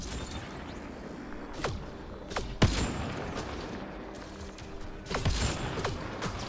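Sniper rifle shots in the video game Mass Effect: Andromeda, several sharp cracks spaced a second or two apart over a steady game background, fairly loud and close.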